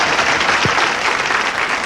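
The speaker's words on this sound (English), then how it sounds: "Nice round of applause for Mr." A game show studio audience claps in a steady, dense round of applause that fills the whole moment, loud and close, with no talking over it.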